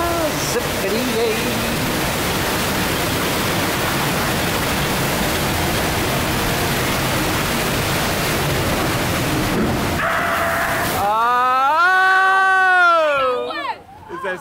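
Water roars and splashes around a log boat on Disney's Splash Mountain flume ride, a loud, continuous rushing wash that drops out near the end as animatronic singing takes over, with people talking.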